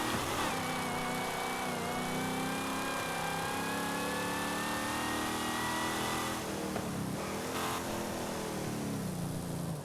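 A Dodge Coronet Super Bee muscle car in Forza Horizon 5 revs its engine continuously, a loud droning roar with rising and falling pitch through gear shifts, steady throughout with no talk.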